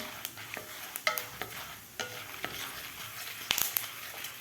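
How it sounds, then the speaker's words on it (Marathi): Asafoetida and turmeric being stirred into hot oil with roasted chana dal for lemon bhel, giving a low sizzle under repeated close spoon scrapes and knocks against the pan, with no talk. "आता यामध्ये घालायचं आपल्याला हिंग, हळद. व्यवस्थित आपल्याला हलवून घ्यायचं आहे."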